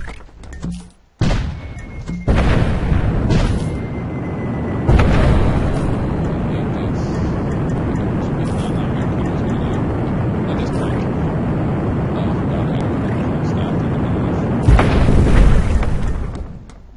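Cannon fire and explosions in the artillery strategy game Cannon Brawl on a lava desert multiplayer map: a sharp boom, then heavy blasts and a sustained loud rumble with further impacts, fairly close and with no talking over it.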